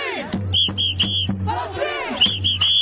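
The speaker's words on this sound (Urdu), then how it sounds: "فری فلسطین کے نعرے لگائے" Protesters in the Netherlands chant Free Palestine slogans, with loud, rhythmic crowd voices rising and falling in repeated short bursts.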